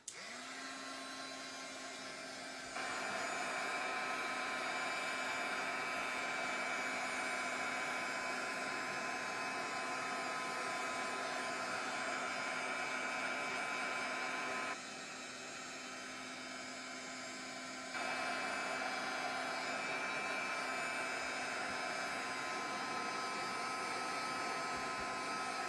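A hair dryer dries a mixed media canvas with a steady whirring drone, switched on for long stretches with brief drops in level as it pauses or shifts, close and loud with no talking.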